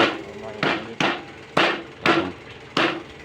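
A cleaver chops grilled pork ear on a cutting board, with six heavy, evenly spaced thwacks close by, each followed by a short ringing decay.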